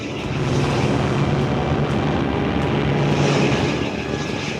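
Propeller-driven bomber aircraft in flight during a World War II bombing raid, a steady loud droning engine roar with a low throbbing hum that holds constant throughout, no voices.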